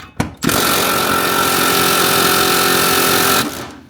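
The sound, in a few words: power tool loosening transmission brace bolts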